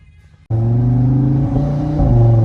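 An Audi RS3 five-cylinder engine drones loudly and steadily, heard from inside the car, with a deep rumbling exhaust tone through newly fitted mid pipes that rises slightly as it accelerates.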